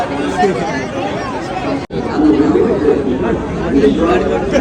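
Pilgrims crowded together at Shirdi create a steady, close hubbub of mingled conversation, loud and continuous apart from a split-second dropout partway through.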